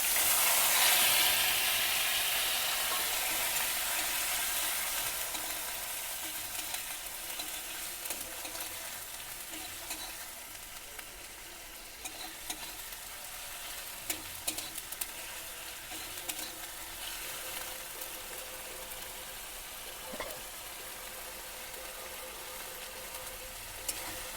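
Ginger and green chili paste frying in a pan for a Bengali Ashtami thali, a steady bright sizzle loudest at the start that settles into a softer continuous hiss with occasional pops and stirring scrapes.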